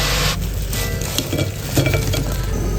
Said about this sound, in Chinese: 然后再炸土豆